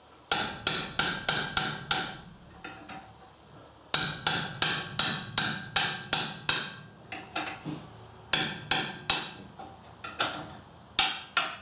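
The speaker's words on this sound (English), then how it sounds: "I just impact them loose with a wrench and a hammer." A hammer strikes a wrench to break loose tight rear caliper bracket bolts on a Ford Edge AWD, landing rapid sharp metallic blows in three bursts of six to eight hits, close and loud.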